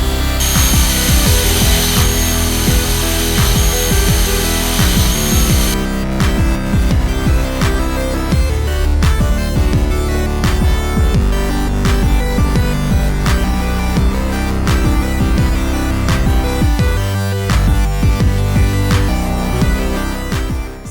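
Power drilling through the steel frame of a 2008-or-later Toyota Tundra to fit frame reinforcement brackets produces loud, continuous grinding and rasping that holds steady for about twenty seconds, with a sharp high whine in the opening seconds.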